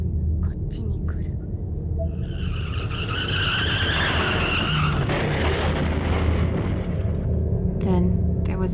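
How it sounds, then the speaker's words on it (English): Tires squeal and a car skids in a drawn-out, rising screech in a horror video game's car accident scene, set over a steady low rumble with clicks at the start and end. "Then there was an oddly familiar sound. Another car accident."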